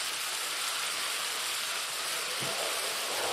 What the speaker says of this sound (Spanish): No, encima se larga a llover.